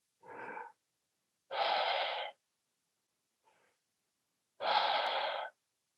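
Deep breaths during a breathwork exercise: three separate breathy exhales of about half a second to a second each, with a faint short puff between the second and third, close and clear against silence.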